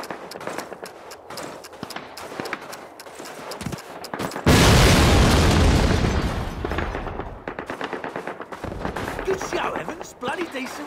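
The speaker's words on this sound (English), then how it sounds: "We need to blow up that flak gun." A flak gun is blown up in Call of Duty at a 1945 V-2 rocket site in Germany: rapid gunfire crackles, then a heavy explosion roars for about two seconds before bursts of shooting resume amid battle noise.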